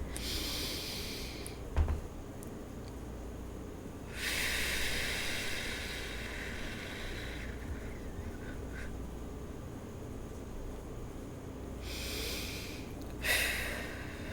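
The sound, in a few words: deep breath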